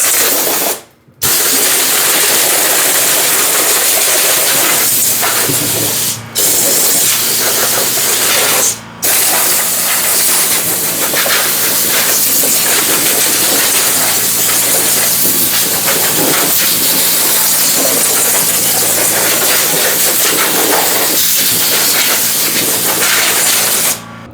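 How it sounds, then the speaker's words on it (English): Compressed air gun blasting dirt out of an Arctic Cat Kitty Cat youth snowmobile in a workshop: a loud, steady rushing hiss that runs nearly nonstop, broken by a few brief pauses. "Now we can come in here with the air gun and clean this up a little bit."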